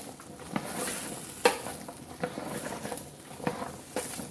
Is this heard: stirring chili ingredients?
yes